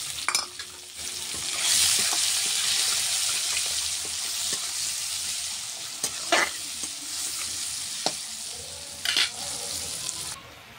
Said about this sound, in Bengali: এখন তেলের উপরে শুকনো লঙ্কা, তেজপাতা, কেটে রাখা পেঁয়াজ করে দিয়ে দিচ্ছি।